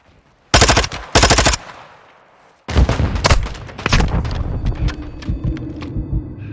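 Automatic gunfire from Modern Warfare 2 online play: two sharp, loud machine-gun bursts, a short pause, then a longer rattling fusillade of shots with echoing rumble trailing off.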